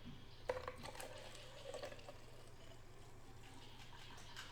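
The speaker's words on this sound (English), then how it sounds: "And then the rest you fill up with water. Distilled water." Distilled water runs into a bottle for a homemade oil blend, a quiet steady trickle with faint drips, heard close and alone at low level.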